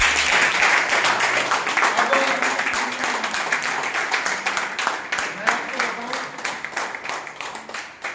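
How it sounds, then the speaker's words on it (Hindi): An audience at a gathering claps with a broad, dense wash of applause that slowly thins into more scattered claps, while a voice talks over it. "तो जोरदार तालियां।"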